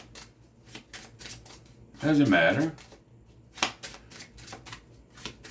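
Cards riffle-shuffled in several short ripping bursts, one loud close burst in the middle, with a brief spoken remark.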